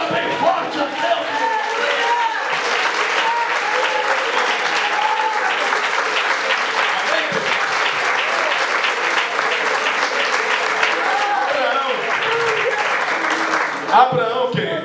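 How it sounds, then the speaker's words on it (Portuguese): A church congregation claps loudly and continuously to God during a service, a dense sustained wash of applause with voices mixed in, lasting nearly fifteen seconds. "aplauda bem forte a Deus"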